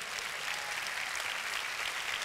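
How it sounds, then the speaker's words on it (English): A church congregation claps hands together at a family camp service, a steady, dense patter of many hands filling the room without a break. "go ahead, give the Lord a hand clap"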